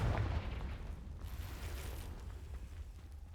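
A Confringo blasting spell explodes in Hogwarts Legacy: a sharp boom at the start, then a rumbling, crackling decay that fades gradually without cutting off.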